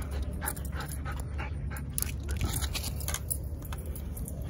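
A dog pants rapidly up close while gnawing and crunching on something, wet chewing sounds mixed with heavy breathing.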